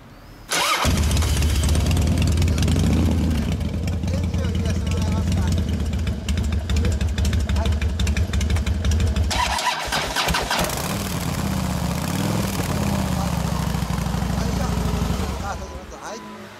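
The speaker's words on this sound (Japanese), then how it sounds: "エンジン音聞かせてもらえますか？" A Kawasaki motorcycle engine cranks and catches, then settles into a loud, steady idle with a brief dip midway before picking back up, running close by.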